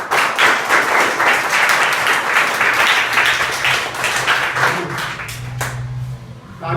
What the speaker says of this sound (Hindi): तो ताली बजाओ अपने लिए